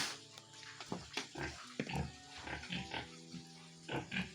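Pigs on a pig farm, grunting and oinking close by in a continuous series of snorts and squeals with some rattling and knocking from the pen.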